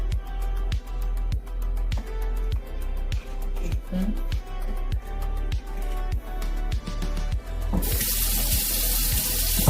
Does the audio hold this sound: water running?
yes